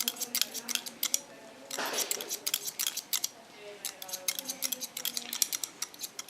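Steel scissors snip freehand through a woman's hair to take length off the left front of a short pixie cut, giving quick repeated close clicks in bursts, with a brief rustle in between.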